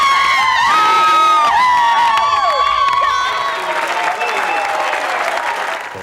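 Thousands of fans scream, cheer and applaud at a Venezuelan political rally for Hugo Chávez, a loud dense roar with shrill whoops and clapping that eases slightly toward the end.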